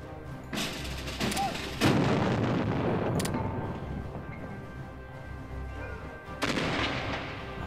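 Naval gunfire from the Bismarck and Tirpitz in a battle in Hearts of Iron 3, with heavy booming cannon blasts rolling over a continuous rumble of battle noise and a loud burst near the end.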